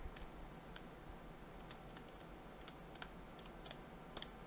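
Faint, quiet keystrokes tapped out in a short irregular run while a product name is entered on a computer keyboard, with sparse clicks over a low background hum and no voice.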